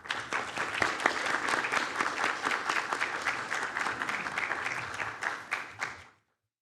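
Sustained applause from a conference audience at an opening plenary and keynote in a ballroom, dense steady clapping for about six seconds before stopping abruptly.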